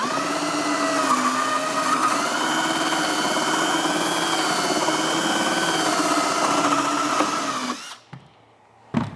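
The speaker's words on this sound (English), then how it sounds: "So we're just gonna get this first drilled out to 1 inch." A power drill bores a 1 inch hole in a Skymaster Su-30 RC jet, a loud steady whine running for about eight seconds before cutting out, with a short knock near the end.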